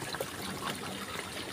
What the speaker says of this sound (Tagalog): Ganito kami maglaba sa Batis.